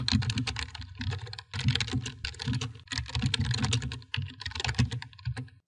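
Fast, uneven clicking of keys on a computer keyboard as text is typed, close and clear, coming in bursts with brief pauses and no voices.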